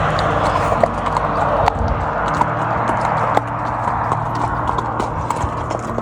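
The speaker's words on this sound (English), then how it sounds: "Horses are in a corral right out there." Horse hooves clip-clop steadily on the ground near a corral by Skiatook Lake, a regular clopping rhythm over a continuous low rumble with no talking.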